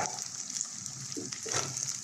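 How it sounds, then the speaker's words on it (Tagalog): Sardines drop into a pan of sauteing bottle gourd (upo), and a steady sizzle of frying rises and swells briefly midway, with no talking. "Ilagay na po natin ang masarap na sardinas."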